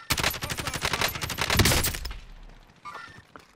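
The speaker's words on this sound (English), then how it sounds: "There's some shooting going on right above us." Rapid bursts of automatic gunfire in the Call of Duty Modern Warfare video game, a dense loud volley lasting about two seconds, then fading to a few scattered distant shots.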